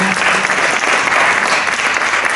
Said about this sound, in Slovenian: Tudi en aplavz, da se malo gremo.